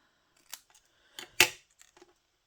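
A few crisp snips of scissors trimming paper, three distinct close cuts spaced unevenly within a couple of seconds, with faint handling noise in a quiet room.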